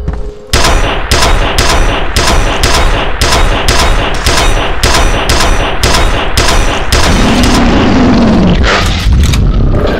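Loud, rapid, evenly spaced blasts of gunfire and explosions in the video game F.E.A.R., a sustained barrage of near booms that drops off into a brief rumbling tail at the end.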